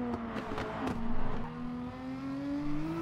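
A Gr.3 race car in GT Sport at Mount Panorama drones steadily at high revs, its engine pitch climbing gradually after a few quick gear-change blips, loud and up close with no talking.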